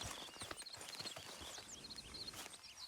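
Horse hooves walking at an easy clip-clop pace in Red Dead Redemption 2, steady irregular thuds over a busy outdoor ambience with chirping birds, no talking.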